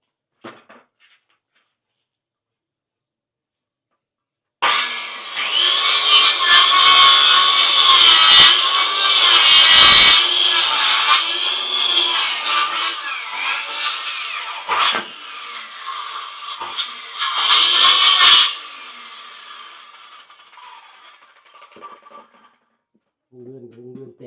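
A saw cuts through wood while an awning is being built. Loud, close rasping strokes run continuously for about fourteen seconds, then stop abruptly, leaving near silence with a few faint knocks.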